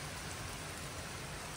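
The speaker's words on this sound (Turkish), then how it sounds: "Yağmur yağıyor demiştim ve yağmur tekrardan şiddetlendi." Heavy rain pouring down in a steady, dense hiss with no breaks, close and fairly loud, no voices.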